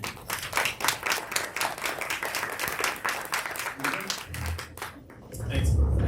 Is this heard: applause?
yes